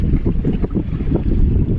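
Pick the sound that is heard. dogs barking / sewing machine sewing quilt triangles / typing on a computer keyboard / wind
wind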